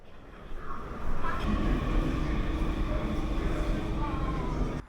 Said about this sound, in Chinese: 然后再乘坐天津地铁。